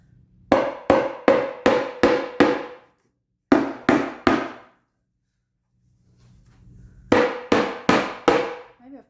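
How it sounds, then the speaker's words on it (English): A small hammer taps a resin and wood board in sharp, close bursts: a run of five quick knocks, then three, a pause, then five more. "Now I haven't got a rubber mallet, so I've just gone and grabbed a little baby hammer."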